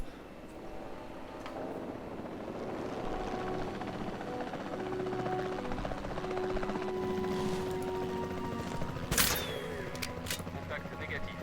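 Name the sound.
helicopter in video game Jurassic World Evolution 2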